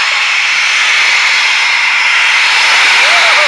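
Military jet taxiing at RAF Coningsby, a loud, steady high-pitched engine whine and hiss filling the whole clip, close by and unbroken.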